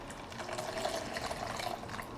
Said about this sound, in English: And then from here, I pour out half of the lukewarm water.